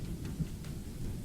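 Rain falls amid a low thunderous rumble, a dense heavy wash of sound with faint crackling drops, continuous throughout and without voices.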